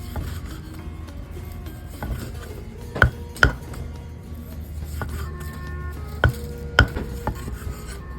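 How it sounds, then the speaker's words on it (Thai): A knife chops thinly through ingredients, likely galangal or fingerroot, on a board for a fiery Thai wild boar stir-fry, with a few sharp, loud chops amid softer scraping and cutting noises close by. "ซอยบางๆหน่อย"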